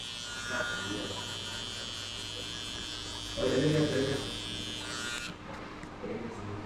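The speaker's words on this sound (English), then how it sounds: "I'll use my trimmer." An electric hair trimmer hums steadily through a buzzcut, a constant high-pitched buzz with a louder stretch midway before it cuts off near the end; a voice murmurs faintly underneath.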